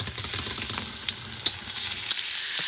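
Vegetables and meat stir-fry quickly in oil for a Thai dish, with a loud, dense sizzle and frequent crackles and pops. Light scrapes and clinks from stirring come through, and there is no speech.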